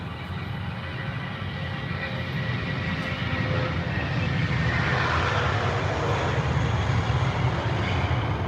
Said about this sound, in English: The A220 just yeets itself into the air